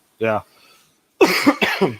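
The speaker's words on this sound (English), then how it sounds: "This cough just does not seem to want to go away" A single harsh cough, then a brief pause and a burst of hoarse coughing or throat clearing, close and loud.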